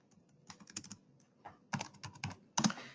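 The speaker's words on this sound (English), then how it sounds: "let's type in the database" Quick bursts of typing on a computer keyboard, close and fairly quiet, with irregular clusters of clicking keys and short pauses between them, no voices.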